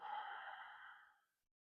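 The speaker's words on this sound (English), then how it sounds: "let's just have 10 more seconds of that breathing on your own." One slow, long exhale from a breathing exercise, a soft, close sigh-like breath that fades out into silence.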